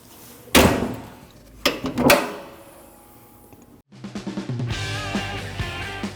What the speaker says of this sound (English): Now make sure your hood closes and opens properly.